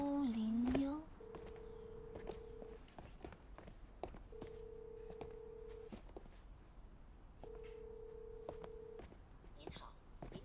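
Telephone dialed on a landline, with quick keypad tones and then a busy signal beeping three times in long, evenly spaced tones, fairly faint, with brief voice sounds at the start.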